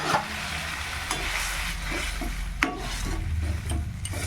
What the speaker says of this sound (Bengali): এবার এই কড়াইয়ের মধ্যে আমি এই তরকারিটা ঢেলে দেবো।